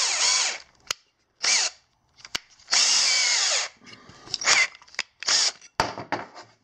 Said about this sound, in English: So now that it's, you just basically use the drill.